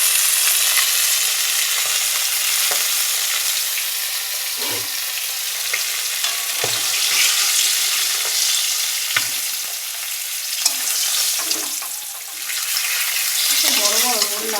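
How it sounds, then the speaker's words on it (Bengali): Fish for a Bengali mustard fish curry frying in a pan: a steady, loud crackling sizzle fills the whole stretch, with small clinks and knocks from stirring or turning the pieces. "আর সর্ষের মাছ তো একটু না ভাজলে হয় না।"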